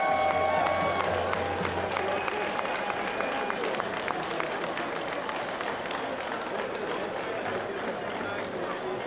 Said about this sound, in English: So can I get a big round of applause for Abbott?